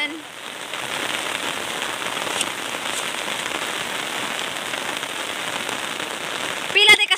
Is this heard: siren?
no